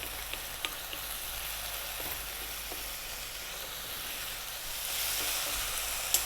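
Diced tomato sizzles in a pan as pide filling cooks, a continuous moderate frying hiss with a few faint clicks and taps, swelling slightly louder toward the end, no voices.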